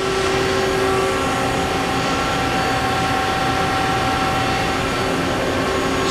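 Spindle of a 1995 Mazak Integrex 200Y CNC lathe running at 1,000 RPM gives a steady, loud machine whine with a broad hum underneath and a constant tone throughout, no voices.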